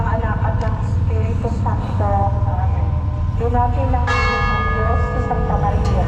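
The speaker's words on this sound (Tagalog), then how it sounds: "Tamang-tamang tunog yung kampana." Church bells ring out with bright, lingering tones over steady traffic and engine rumble, several strikes overlapping in the open air.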